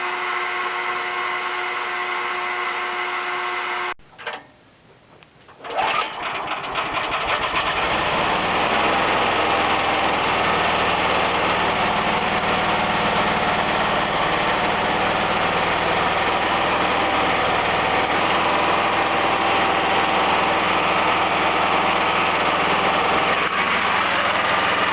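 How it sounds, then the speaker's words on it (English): A small engine fueled by wood gas from a Gas-O-Matix9000 gasifier: a steady hum, a brief stuttering pause, then the engine catches and settles into a continuous, even idle that runs without talk. "So we're getting ready to put some starting on this here engine."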